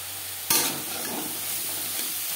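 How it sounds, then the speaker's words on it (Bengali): Eggplant mixed with salt and turmeric being stirred in a hot pan, a sharp scrape at the start followed by a steady, close sizzle that holds alone without talk. "লবণ হলুদ বেগুনের সাথে বেশ ভালো করে মিক্স করে দেব।"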